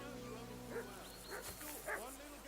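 A dog barks in the medieval video game Kingdom Come: Deliverance 2, three short sharp barks spaced about half a second apart, rising over a steady bed of game ambience and murmured voices.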